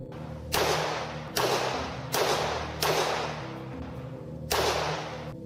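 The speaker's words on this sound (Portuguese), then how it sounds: "Foi então que de lá ouvimos 5 tiros." Five gunshots: sharp, loud bangs at uneven intervals, each with a hissing tail; the first four come close together and the last follows after a pause.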